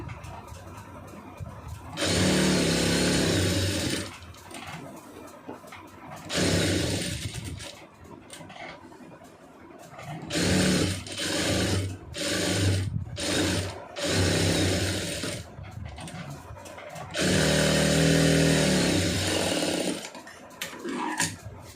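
A sewing machine stitches a lining blouse in several loud bursts of whirring needle action, with quieter pauses between runs of a few seconds each.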